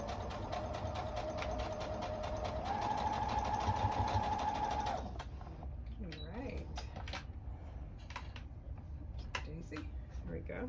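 A sewing machine runs steadily while stitching quilt fabric for a scrappy heart quilt, a continuous motor whir that stops partway, after which only light handling noises and voices remain.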